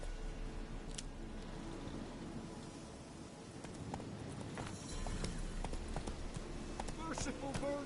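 Hooves of Roach, the horse in The Witcher 3, clatter in a quick galloping rhythm over a faint wind and rain ambience, with game dialogue spoken over it.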